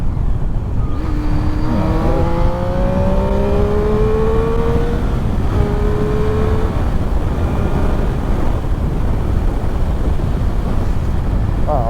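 A 2008 Triumph Street Triple 675 motorcycle engine revs up through rising tones under steady wind roar, climbing in pitch several times, then settling into a constant drone.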